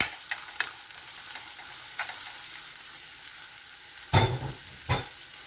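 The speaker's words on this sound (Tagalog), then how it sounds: "Isama ko na ang aking bawang at sibuyas." Garlic and onion sautéing in a pan, a faint, steady sizzle with a handful of sharp utensil scrapes and clinks near the end.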